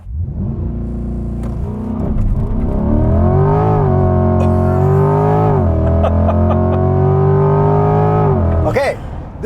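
A 2020 C8 Corvette, mid-engine, launches hard with a loud, steadily rising engine roar that climbs through the revs for several seconds, then cuts sharply near the end, with a voice speaking over the run.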